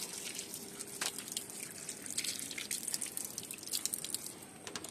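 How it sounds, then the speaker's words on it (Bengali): Water trickling and dripping as a stone grinding slab is rinsed, a steady splashy patter with scattered brighter drips, close up and fairly quiet, no speech. "পাটা ধুয়ে নি।"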